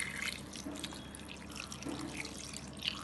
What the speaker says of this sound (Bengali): দিয়ে এইবার এতে আমি জল অ্যাড করব।